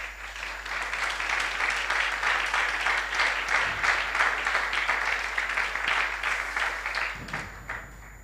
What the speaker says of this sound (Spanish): El Señor merece un aplauso por eso